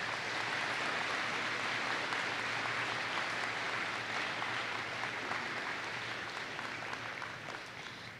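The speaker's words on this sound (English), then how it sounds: "Let's give Mr. Hairston one more round of applause." A school Veterans Day assembly gives a veteran speaker a sustained round of applause from a crowd in a large room, a dense steady clatter that slowly tapers.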